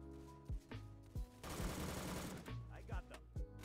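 Gunfire in a Roblox shooter with heavy starting recoil: several sharp single shots, then a dense rapid burst of about a second, then more spaced shots, all close and fairly quiet.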